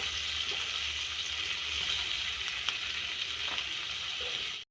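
Dried fish frying in oil in a pan gives a steady, loud, continuous sizzle with a faint crackle, heard close and without any voices.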